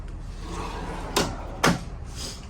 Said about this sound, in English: And 1 more deep drawer on the bottom.